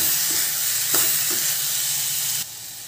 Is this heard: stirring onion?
yes